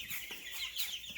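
Baby chicks peep and cluck softly in a quick run of short high calls, close and faint, no voices over them.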